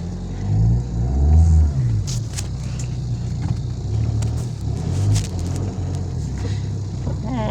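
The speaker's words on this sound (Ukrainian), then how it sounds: "тормоза є, машина заводиться капітально" A Daewoo Lanos car engine starts and runs, a low, steady rumble with a few swells as it revs, close by, with voices briefly heard over it.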